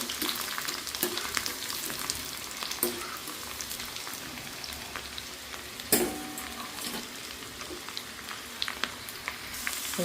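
Small batches of food fry in hot oil in a pan, giving a steady crackling sizzle with a few sharper pops and stirring clicks, moderately close and with no voices.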